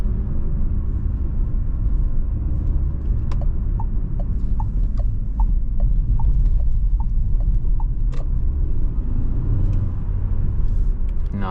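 A Renault Captur Esprit Alpine accelerates at night in Sport mode, with a steady, loud low engine rumble and road noise filling the cabin and faint clicking ticks on top.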